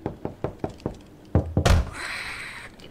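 Door knocking in a SpongeBob video game set in Bikini Bottom: a run of five sharp, evenly spaced knocks, then a few heavier thuds and a bang fading into a soft airy hiss.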